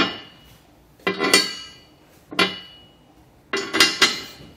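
Metal bolts for a Curt custom fifth wheel kit on a 2022 Chevrolet Silverado dropped down through the steel rail, giving three separate clusters of bright metallic clinks and rattles with quiet gaps between, close and without talk.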